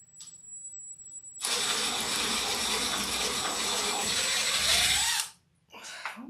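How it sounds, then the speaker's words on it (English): A power drill bores into material in a home workshop, whining loudly and steadily for about four seconds after a quiet start, then cutting off, with a short burst of whirring near the end. "Just gonna drill all three,"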